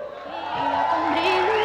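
A church Easter service audience cheers and whoops for a theater group, a loud swelling crowd roar with rising shouts that builds steadily over its short span.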